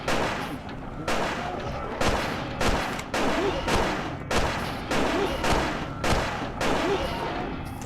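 Gunfire in Silent Hill 4: The Room, a steady series of loud, close single shots at roughly half-second to one-second intervals, each with a sharp crack and short ringing tail, a voice speaking faintly in between.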